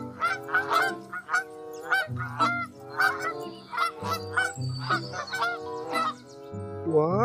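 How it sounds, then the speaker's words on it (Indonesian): Loud honking calls from waterfowl, repeated in quick uneven bursts, close and alone without talk, more goose-like than duck in tone. "ini bebek"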